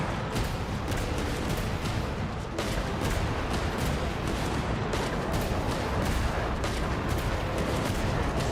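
Artillery gunfire goes off after a fire command as a dense, continuous barrage of loud cracking blasts and rumble that fills the whole stretch without pause.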